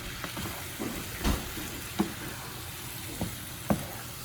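Shrimp sizzling in a pan, a steady low crackle of frying with a few soft knocks and scrapes of a utensil, no talking.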